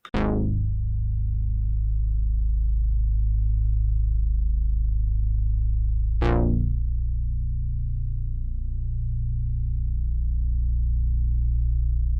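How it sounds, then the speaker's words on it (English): A deep synth bass from an Arturia Mini V3 preset, used in a dreamy R&B production, holds two long sustained low notes, each opening with a bright plucky attack that quickly mellows, played alone without effects. "And then we got this synth bass, which sounds like this."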